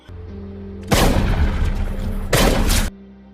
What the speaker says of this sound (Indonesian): mendapat tembakan dari atap gedung